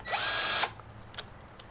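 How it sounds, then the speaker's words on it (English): A battery-powered drill/screwdriver with a diamond bit grinds into a ceramic pot, a loud steady whine for over half a second that cuts off, followed by a few faint knocks and clicks. "you've got your diamond drill bit and you've got your electric drill"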